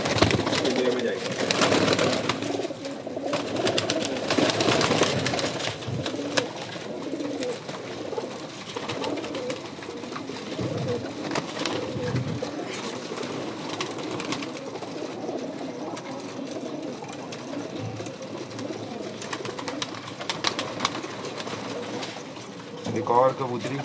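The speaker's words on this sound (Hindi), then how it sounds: "ये भी ब्रीडर कबूतरी है।" Pigeons coo softly and repeatedly throughout, with someone talking over them for much of the time.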